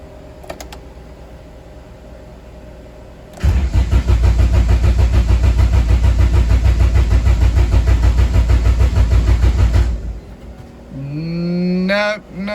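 Honda CRX Si drag race car engine cranking without firing: a loud, steady rhythmic starter chug runs for about six seconds, then cuts off into quiet, followed by a brief squeaky sound.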